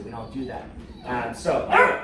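A couple of puppies bark and yip in the background indoors, with short, sharp bursts that grow louder near the end, under a man's nearby speech.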